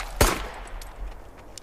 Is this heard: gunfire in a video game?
yes